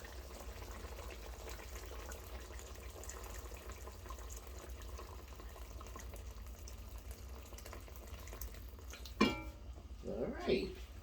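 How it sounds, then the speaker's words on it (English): Water is poured into a pot of simmering brown stew goat, a short splashing burst near the end standing out over a steady hissing kitchen background. "I need to put more water."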